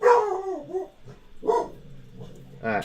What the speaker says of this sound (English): If they keep barking, they're going to end up going upstairs.